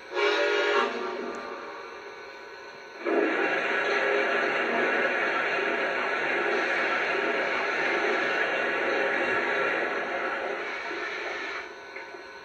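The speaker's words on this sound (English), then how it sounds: "Here's the sound of oil being added." Oil being added to a Lionel Legacy Santa Fe 2926 model steam locomotive: after a short opening burst and a pause, a loud, continuous rushing hiss runs steadily for about nine seconds, easing slightly toward the end.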